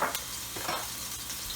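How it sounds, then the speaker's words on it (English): Ginger and garlic hit hot oil in a pan for shrimp chow fun, giving a loud, steady sizzle with a few stirring scrapes, close and alone without talk. "Ginger, garlic goes in."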